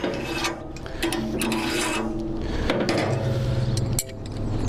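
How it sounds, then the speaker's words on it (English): A carving stop is slid along the outside of a rotisserie spit pole on an Elite roasting machine, giving steady metallic scraping and ratcheting clicks under a continuous mechanical hum, close and fairly loud, without speech. "This little device is called a carving stop, and what happens, it goes along the spit pole on the outside of the machine, it locks against the box section."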